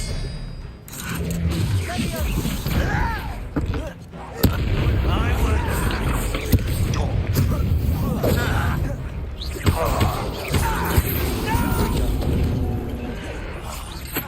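Spellcasting combat in Hogwarts Legacy on PS5, with the Expelliarmus disarming spell being cast: a dense, continuous roar of magical blasts and bursts that carries on throughout, with voices speaking over it.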